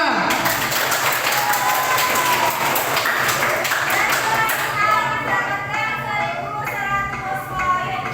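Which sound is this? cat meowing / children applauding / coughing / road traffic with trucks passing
children applauding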